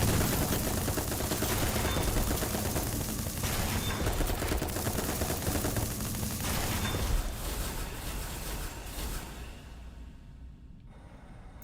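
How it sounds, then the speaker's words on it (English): Rapid video game gunfire with an enemy shotgun in an indoor hallway battle, a dense, loud continuous barrage of shots and blasts that thins out and fades toward the end. "Oh, that guy's got a shotgun."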